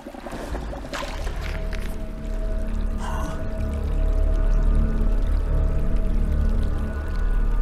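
Water being refilled into an empty container in the video game Winter Survival, with a steady pouring and trickling stream that swells louder over several seconds, heard alone without talk.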